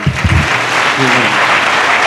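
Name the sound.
congregation clapping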